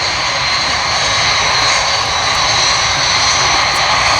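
Red Arrows jets taxiing at the Thunder over Michigan airshow, a loud, steady jet engine roar with a high whine, continuous and close throughout.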